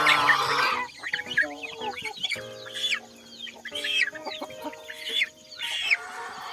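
Chickens in a brooder cage cluck and squawk in scattered bursts nearby, with a few longer calls rising over a quiet background.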